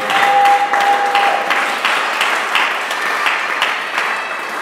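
A church congregation applauds steadily and fairly loudly, a dense wash of clapping that holds for several seconds with a faint voice or tone at the start.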